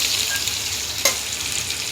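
Onion and capsicum sizzling in a hot pan, a steady close frying hiss with a brief stirring clatter midway.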